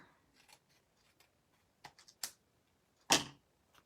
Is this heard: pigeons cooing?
no